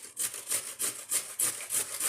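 Beetroot rubbed on a coarse grater in a home kitchen: about eight quick, even rasping strokes in steady rhythm, close and clear with no talk.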